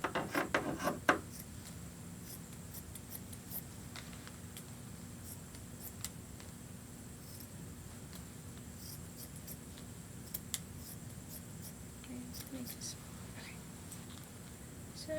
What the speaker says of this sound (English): So just cut along the lines you made.